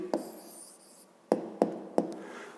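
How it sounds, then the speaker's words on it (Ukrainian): A pen or pencil writes an answer by hand on paper, a few short scratchy strokes and taps spaced apart, close and fairly quiet with no talk. "Пишемо відповідь."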